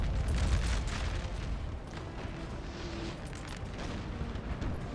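Enemy artillery fire in Napoleon: Total War, a continuous rumble of distant cannon booms and bursts rolling under a steady battlefield din, with no talking.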